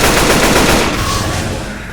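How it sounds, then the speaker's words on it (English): Rapid, sustained assault rifle fire in a first-person shooter video game, a loud close burst of dense automatic shots that rattles on for two seconds and tapers slightly toward the end. "Gotta rack some up with this assault rifle."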